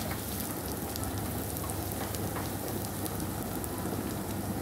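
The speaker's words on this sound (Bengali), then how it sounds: "তেলের মধ্যে সামান্য একটু জিরা, পেঁয়াজ কুচি, পেঁয়াজটাকে একটু ভেজে নিব" Chopped onion and cumin fry in hot oil, giving a steady, dense sizzle and crackle that carries on without a break, close by, with no talking.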